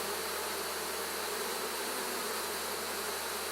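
Honeybees crowd honey super frames from a beehive, their buzzing a thick, continuous, close swarm drone that holds level without pause or voices.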